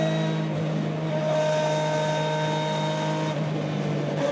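A BTCC-spec front-wheel-drive Ford Mondeo race car lapping on track, its engine a loud steady drone with strong harmonic whine holding pitch, briefly shifting near the end.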